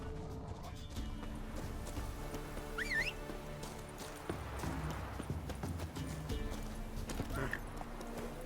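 Geralt's horse Roach in The Witcher 3, hooves clip-clopping at a steady walk with a short whinny, clanking and movement around it, fairly quiet and close.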